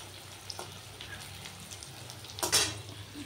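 Fish fries in a pan in a home kitchen as a soft, steady sizzle sits under low background hum, with one brief louder burst of crackling near the end.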